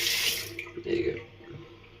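Tap water splashes from a running faucet as a razor blade is rinsed, a close hissing rush that fades over about two seconds, with a brief voice murmur partway through.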